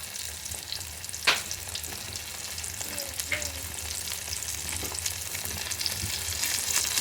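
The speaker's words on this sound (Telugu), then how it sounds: "ఇప్పుడు అల్లం వెల్లిపాయ పేస్ట్ వేసుకుందాం" Ginger garlic paste frying with tomatoes in a pan for egg pulao, a steady soft sizzle throughout, with one sharp clatter early on and faint scraping later; no talking.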